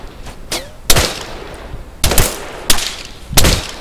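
Gunshots from enemy AI infantry in Arma 3, four sharp, loud cracks spaced roughly a second apart, each with a short rumbling tail over faint background ambience.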